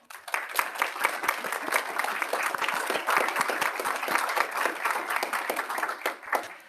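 A room applauds an honoree at a school governing board meeting: sustained, fairly even clapping from a modest group, close and continuous for several seconds before tapering off.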